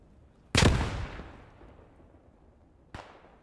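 Two grenades explode in Post Scriptum, a World War II shooter: a loud, close blast with a long rumbling decay, then a second sharper, smaller burst about two seconds later, with no talking.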